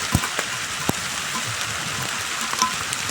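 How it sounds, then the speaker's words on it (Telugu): Heavy rain falls steadily on a farm where rice straw is being laid out for cows, a dense continuous hiss with a few louder drops striking nearby surfaces, no voices. "ఫుల్ వర్షం పడుతుంది."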